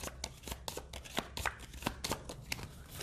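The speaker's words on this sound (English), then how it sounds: "Gotta shuffle this again," A deck of cards for the Pathfinder Adventure Card Game is shuffled by hand, a close, rapid series of crisp riffles and slaps lasting several seconds, with no talking.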